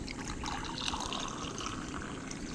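About 250 ml of hot water pours into a cup for a herbal wellness drink, a soft continuous liquid fill lasting a couple of seconds, quiet and close, with no speech.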